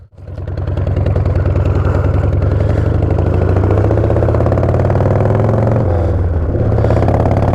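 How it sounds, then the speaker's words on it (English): A Harley-Davidson motorcycle fitted with loud drag pipes rumbles close by, its deep engine throb swelling into a sustained roar with a brief dip and surge near the end, unbroken for over seven seconds without talk. "this bike with these drag pipes, I don't have my earplugs."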